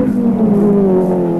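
A 1983 race car screams down Conrod Straight at Bathurst, engine held at a loud, steady high pitch with a slight downward drift as it passes close by.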